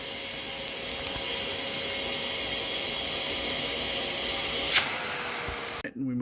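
A Perfect C103 vacuum cleaner runs steadily through an airflow test, a constant broadband roar with a faint whine that ends abruptly in a brief clatter.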